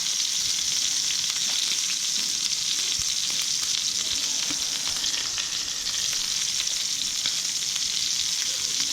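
Duck breast frying skin-side in a hot pan, with a constant loud, dense sizzle and crackle that runs unbroken from start to end, close up and with no voices.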